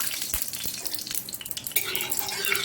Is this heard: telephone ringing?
no